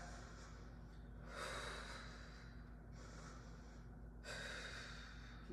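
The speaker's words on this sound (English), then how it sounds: "5 more rounds of breath" Deep, steady breaths during a Pilates mat breathing exercise, with two broad, audible rushes of air against a constant low hum, close to the microphone.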